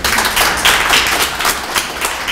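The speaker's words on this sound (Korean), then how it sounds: "여러분 크게 박수 한번 부르십시오." Crowd applause at the opening ceremony of the New Start art fair at KMJ Art Gallery, a dense, steady wash of many hands clapping close by for the full stretch, with no voices over it.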